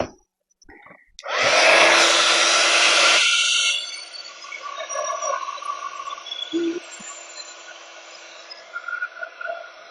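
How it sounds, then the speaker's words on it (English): A craft heat tool for card making blows with a loud, steady broadband roar for about two seconds close by, then runs on more quietly with faint clicks and handling noises underneath. "Get our heat tool."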